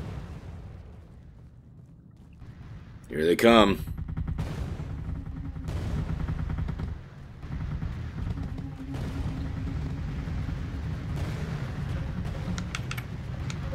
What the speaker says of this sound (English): those are the flak cannons going off